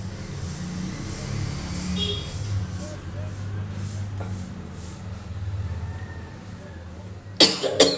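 Several coughs from a person with a cold at the busy Nampally exhibition in Hyderabad, where bangles are sold; a short burst of hoarse coughing comes near the end over a low steady crowd murmur.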